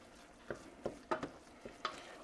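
A flour roux for sausage gravy is cooked and stirred in a pan, giving a faint sizzle under about six soft scraping strokes of the spoon at uneven intervals, with no talk.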